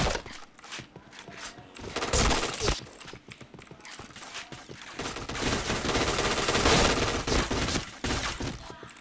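Shooting-game gunfire on a mobile device at an internet cafe, bursts of rapid shots that swell and fade, dense and loud in the middle stretch, with brief sharper hits.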